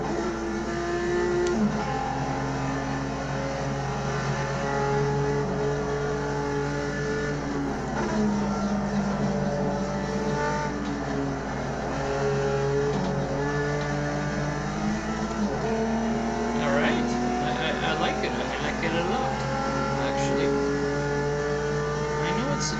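Continuous high-pitched engine whine of a modded race car in the racing game Automobilista 2, rising and falling with gear shifts, steady and loud throughout with no talking.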